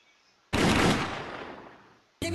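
Gunfire in the Skibidi Toilet monster hide-and-seek game: a burst of loud rapid shots cuts in abruptly, rumbles and fades over about a second and a half, then another burst starts at the end.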